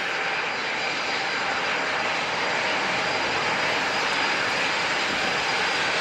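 A jet airliner throttles up at San Diego International Airport. A dense, steady engine roar holds at an even, loud level for the whole stretch, with no other sounds.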